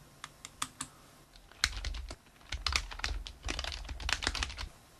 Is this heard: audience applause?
no